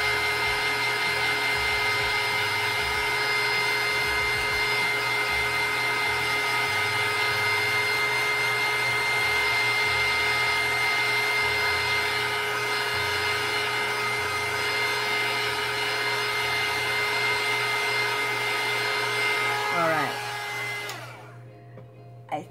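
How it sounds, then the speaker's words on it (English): Heat gun blows a steady, loud whooshing hum while drying a mixed media card, running continuously for about twenty seconds before cutting off. "We're gonna use our heat gun,"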